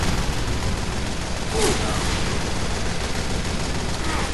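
Steady gunfire in Team Fortress 2, a dense and continuous rattle of shots that runs through the whole clip at close range.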